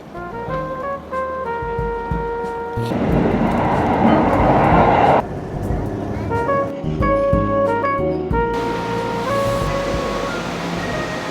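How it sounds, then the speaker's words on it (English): Busy ambience at Shibuya train station in Tokyo: rumbling trains, layered chimes and melodic station tones, and a surge of noise midway, all close and fairly loud, with no clear talking. "I'm currently at Shibuya train station"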